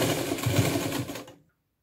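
A sewing machine stitching kurti shoulder seams runs in a fast, steady mechanical whir with rhythmic needle clatter, close and loud, then stops abruptly into silence.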